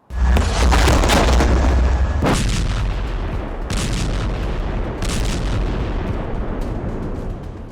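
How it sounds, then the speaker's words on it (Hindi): Bombs from airstrikes explode in a series of heavy, booming blasts, several thunderous hits spaced a second or two apart, each followed by a rolling rumble. "अलग अलग लोकेशन पर हमले के लिए अलग अलग बमों का भी इस्तेमाल किया जा रहा है"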